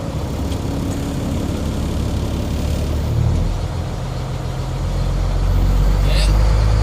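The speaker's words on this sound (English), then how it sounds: "Just hover over the brake pedal and you're going to start the engine." A truck's engine is started during a CDL pre-trip inspection. The loud, steady engine rumble swells and deepens into a heavy low idle near the end.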